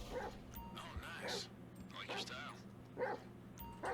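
Dog yips and bow-wow barks from a dog in Grand Theft Auto Online, several short bursts spread across the moment, mixed with ongoing game audio and people talking over it.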